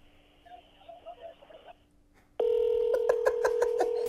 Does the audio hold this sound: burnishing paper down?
no